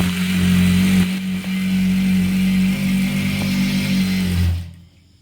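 A sewing machine runs steadily while stitching churidhar fabric, giving a close, loud motor hum with a fast whirring stitch rhythm, pausing briefly once, then stopping near the end.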